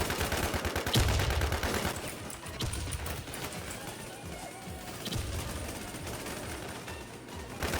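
Rapid gunfire in the shooter game Runner crackles in dense bursts through the whole stretch, loud and close, with a heavier thump near the start and a busy, clattering background.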